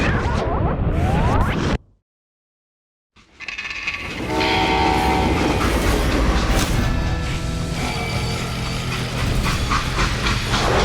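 A train in the Western game Call of Juarez Gunslinger rumbles and hisses loudly, cuts out to a brief silence, then returns as a dense, steady clatter with tonal squeals and whistle-like notes.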